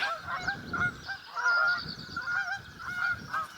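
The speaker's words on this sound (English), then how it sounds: "They are noisy geese." Geese honk repeatedly and noisily, squabbling with overlapping calls close by near Yarmouth on the Isle of Wight, with a steady outdoor rumble underneath.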